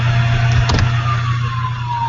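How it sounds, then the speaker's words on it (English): A car engine hums steadily nearby, with a quick whooshing pass and a faint rising whine fading as the vehicle moves along. "There's cars going by"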